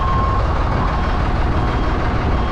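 A forklift lifting a car tire during a 1963 Pontiac Catalina revival makes a loud, close engine rumble, with a thin steady beep tone briefly sounding over it at the start.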